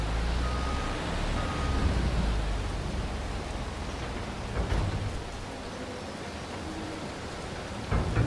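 Steady rain falling on pavement in the Farming Simulator 25 video game, a continuous broadband wash that stays even and fairly loud throughout with no talking.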